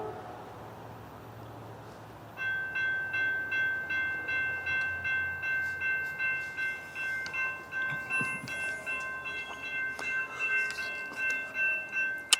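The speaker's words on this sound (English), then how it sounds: "we've got CSX IO25 heading south here on the Henderson subdivision" A CSX freight train passes on the Henderson subdivision in Madisonville, Kentucky: after a quiet start, a steady ringing bell tone begins and wheels thump in a regular rolling beat, close and sustained to the end.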